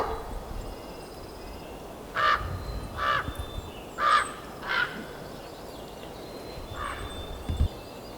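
Outdoors at a Sierra Nevada campsite, a bird gives a series of harsh crow-like caws, about five spaced calls at moderate distance over quiet background hiss.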